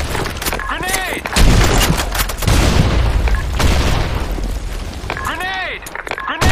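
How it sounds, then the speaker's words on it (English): Loud video-game gunfire and booming grenade blasts in a ruined city battle, with broadband bursts and a sustained rumble, while shouted voices call out over the combat. "Fire in the hole! Grenade!"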